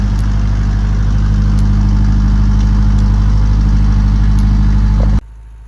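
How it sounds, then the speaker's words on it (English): A loud, steady farm tractor engine idles with a low rumbling drone and faint rattles, then cuts off abruptly near the end. "Takes a little time to get the tractor into place"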